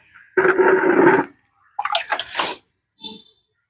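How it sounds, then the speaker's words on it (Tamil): Water drains out through a freshly repotted Adenium arabicum pot after watering, in a loud splashing rush followed by a couple of shorter, softer trickling bursts and a faint final drip. "உள்ள தண்ணி நல்லா இறங்கட்டும்"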